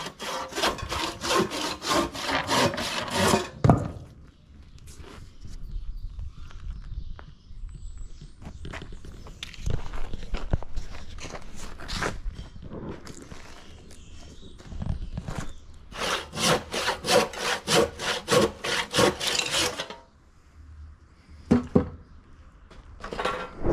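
An old saw disc on an underpowered machine cuts through wood full of nails, with loud bursts of rasping sawing separated by brief pauses and scraping handling noise, close up and without talk.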